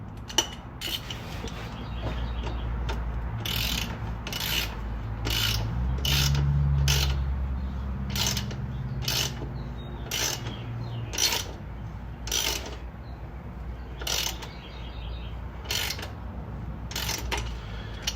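A ratchet turns a bolt on the 2.2-liter engine of a 1999 S10 with a 5-speed during rear main seal work, giving repeated bursts of sharp clicking in an uneven rhythm, close up over a low background hum.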